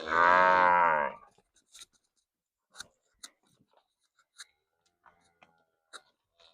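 A single loud, drawn-out moo from a close cow at pasture, followed by quiet scattered clicks and small knocks.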